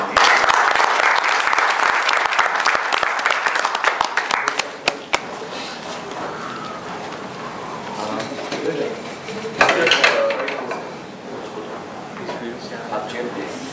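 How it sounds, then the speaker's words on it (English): People at a youth workshop session clap for a volunteer, a brisk burst of applause for a few seconds that cuts off into a speaking voice, with a short scattered flurry of claps later. "Clap for me, Jyoti."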